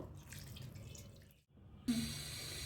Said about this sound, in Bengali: এখন এর মধ্যে একটু পানি দিয়ে দেব